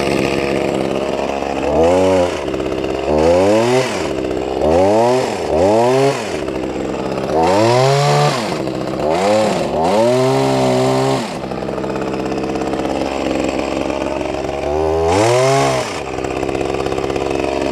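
An Echo HC1500 hedge trimmer, freshly fitted with a replacement carburetor, runs loud and close in a series of revving bursts that rise and fall, with short idles between throttle blips and a final rev near the end.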